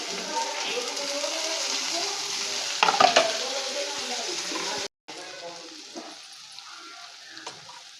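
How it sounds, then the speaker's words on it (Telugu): Drumstick pieces fry in oil and get stirred in a pan, a dense close sizzle with a brief burst of clatter midway, then quieter frying after a short cut; a voice talks faintly underneath. "మునక్కాయ ముక్కలు కూడా వేసేసుకుందామండి మునక్కాయ ముక్కలు నూనెలో బాగా వేయాలండి"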